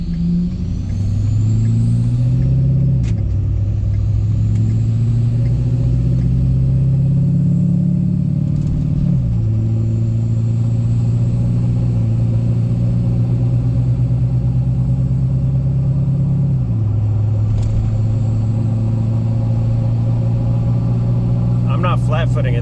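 A Ford 6.7 Powerstroke diesel truck on 37-inch mud tires accelerates hard from a stop. A loud, steady engine roar rises in pitch, then drops at each gear shift, with a voice talking over it.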